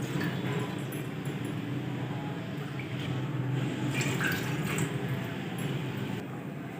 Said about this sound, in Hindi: पानी ऐड करेंगे 2 कप